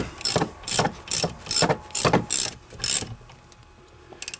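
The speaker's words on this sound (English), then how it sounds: "Then just tighten these up with the socket." A ratchet socket wrench tightens the brake caliper bolts on an Opel or Vauxhall Vectra B during a front brake disc replacement, about seven loud, close clicking bursts in an even rhythm, then a brief pause and a few faint ticks.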